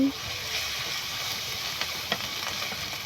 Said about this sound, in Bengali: পেঁয়াজগুলা ভালো করে ভেজে তারপর যখন লাল হয়ে যাবে তখন একটু রসুন বাটা, আদা বাটা দিয়ে কিছুক্ষণ নেড়ে নিব।